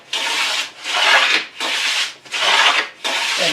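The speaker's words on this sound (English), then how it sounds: "And then just start the beveling." A wooden back panel for a serpentine chest, lubricated with paraffin, is beveled by hand in about five even, rasping strokes, each a close, loud scraping sweep with brief gaps between.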